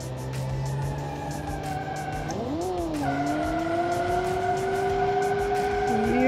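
Tyres squealing and skidding on a 1975 Automation Premium GT car in the BeamNG driving game: a rising, sustained screech layered over a steady engine drone, loud and continuous, swelling toward the end.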